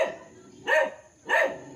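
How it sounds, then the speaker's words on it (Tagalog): Two loud, close dog barks, spaced about half a second apart, ring out at a hillside farmhouse in Liliw, Laguna, with a steady background hum between them. "Yan, may aso sa harapan."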